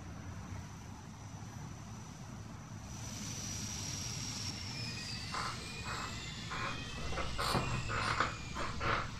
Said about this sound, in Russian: вот пошли первый самолет